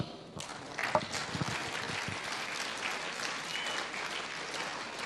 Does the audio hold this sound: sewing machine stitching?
no